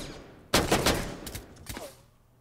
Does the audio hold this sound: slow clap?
no